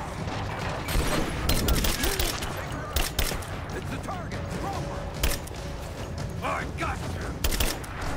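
Assault rifle fire in Rise of the Tomb Raider, heard as scattered sharp shots and short bursts among clanking mechanical game noises, with voices talking throughout.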